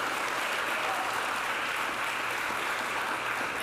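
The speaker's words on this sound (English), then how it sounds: "let's give a round of applause to Commissioner Gray as well" Steady round of audience applause for a commissioner at a New York flood recovery briefing by the governor, an even wash of clapping from a gathered crowd lasting several seconds.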